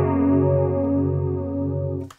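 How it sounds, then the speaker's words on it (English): Mixed chorus tone from a TC Electronic Corona Chorus pedal TonePrint on electric guitar: one sustained chord shimmering with swirling modulation, loud and up front, then cut off abruptly with a short click at the end. "But if I get then go back to the mix sound."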